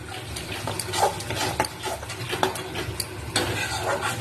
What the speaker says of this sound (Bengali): এই অনেকক্ষণ ধরে একটু নেড়ে চেড়ে নিতে হবে